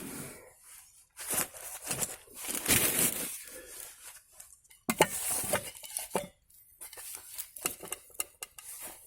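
A cooking pan handled while preparing a hamburger at a stealth camp shelter, with irregular metallic clanks, scrapes and knocks coming in close bursts separated by quiet gaps, and no speech.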